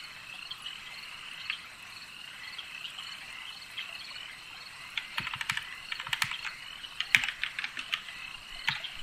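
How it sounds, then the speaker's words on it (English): Bursts of quick keyboard typing clatter over a constant chorus of crickets and frogs, the clicks coming in uneven runs. "enjoy the sweet sounds of nature and my keyboard."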